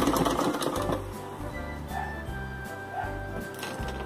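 A sewing machine stitching the placket opening of a shirt or dress runs steadily with a rhythmic mechanical hum and pulsing motor, close and fairly loud, without talk.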